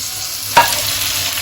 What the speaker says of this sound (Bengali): হলুদ আর লাল এগুলো দিয়ে একটু সময় মানে তিরিশ থেকে চল্লিশ সেকেন্ড আমি এগুলোকে নাড়া দেব